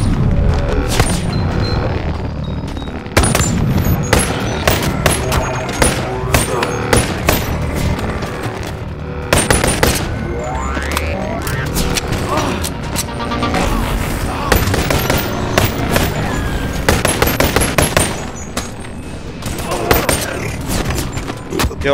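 Loud gunfire fills a fight in the VR video game Boneworks arena mode, rapid bursts and repeated heavy shots with booming impacts going on nearly nonstop throughout.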